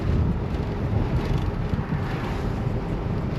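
A car engine with a blowing rear seal rattles steadily while driving on Scottish roads, a continuous low rumbling drone with wind noise mixed in, constant and fairly loud throughout.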